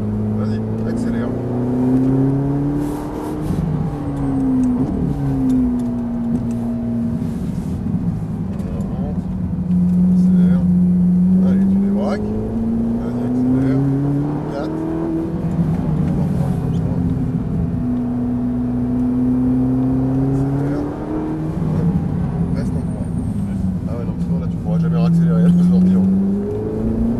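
A Ferrari 458 accelerates on a track, its engine note climbing and dropping through repeated gear changes, a steady loud drone heard from inside under an instructor's talking.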